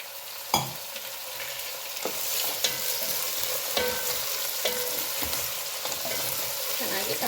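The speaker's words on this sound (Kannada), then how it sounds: "ಫ್ರೈ ಮಾಡ್ಕೊಳ್ತೀನಿ ಟೊಮೊಟೊ ಹಾಕ್ತಾ ಇದ್ದೀನಿ" Tomatoes added to onion and chilli frying in a pan, a steady close sizzle broken by several sharp stirring scrapes and clinks of a spoon, with no talking.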